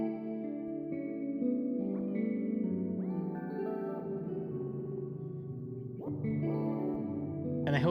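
Clean guitar-like tones through a chorus effect in an Ableton stock device, with echo tails blended in for a shimmering ambient wash; sustained notes and gentle swells ring out steadily without any talking.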